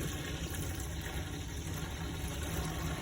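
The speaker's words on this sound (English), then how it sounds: "The water's coming out nice and smooth." Tap water runs steadily with a domestic pump humming underneath, a continuous, even rush with no breaks.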